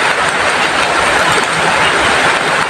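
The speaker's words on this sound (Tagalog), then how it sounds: "umulan na ng malakas ni." Steady, dense broadband hiss of heavy rain pouring continuously, loud and close, with no pauses or voices.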